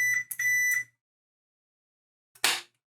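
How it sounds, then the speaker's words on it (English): A voltmeter's continuity function gives a steady electronic beep, stopping and restarting in short bursts and then cut off, followed by a brief noisy click or rustle after a silent gap. "It'll still have a continuity beep function."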